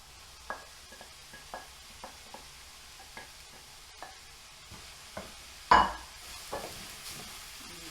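Cooked-down vegetables and mince stirred together in a pan for cottage pie, soft spaced scrapes of a utensil over a quiet sizzle, with one louder knock near the end.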